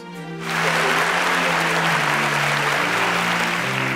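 Audience applause at a quiz show semi-final, a loud, dense wash of clapping that starts sharply after a brief quiet moment and holds steady, with sustained musical tones running underneath.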